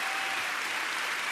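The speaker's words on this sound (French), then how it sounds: "Donc, on l'applaudit encore." Steady, dense studio audience applause on a French television variety show, a continuous wash of clapping with no voices over it.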